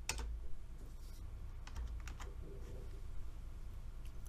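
Close computer keyboard typing as code is written, quick irregular key clicks in short runs, then a steadier patter of keystrokes, fairly quiet, with no talking.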